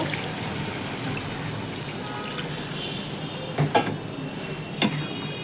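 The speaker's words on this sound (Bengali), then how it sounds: "এখানে আমি জল অ্যাড করে দেব" Water poured into a pan of fish curry (khoira fish jhal) after the spices are fried, a steady gushing, trickling pour close by, with a few soft clinks near the end.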